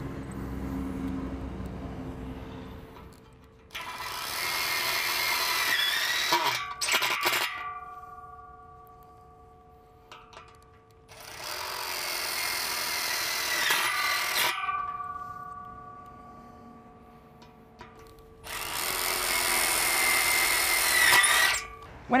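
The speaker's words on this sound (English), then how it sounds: "screw it off with tech screws" A power drill drives tech screws through a cleat on an aerated autoclaved lightweight concrete wall panel, three loud sustained whirring bursts of several seconds each, rising to a high whine, with quieter gaps between.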